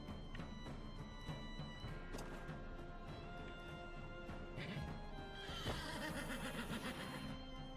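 A horse neighs in the video game Wartales amid clashing crashes, thuds and a music bed; the whinny is moderately loud and rises near the end.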